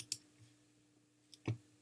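Two quick, faint mouse clicks on a quiet computer desk while working in design software, separated by a short pause, the second slightly stronger.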